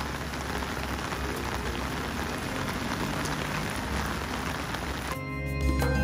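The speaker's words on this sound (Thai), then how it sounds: "ตอนนี้ฝนตกหนักมากเลยค่ะ" Heavy rain pours steadily in a dense, loud hiss of drops, broken near the end by a sudden shift to a quieter, muffled sound, with no talking. It is recorded during everyday life in Japan.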